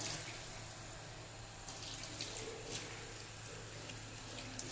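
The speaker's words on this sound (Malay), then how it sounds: "Air bersih, sejuk, laju," Tap water from a newly connected supply runs steadily and strongly, a constant broadband rush with no one speaking.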